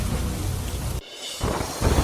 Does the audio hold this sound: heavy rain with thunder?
yes